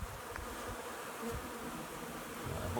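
Honey bees at a springtime hive entrance heavily loaded with pollen make a dense, steady buzzing drone, close and continuous throughout, with individual bees flying past now and then.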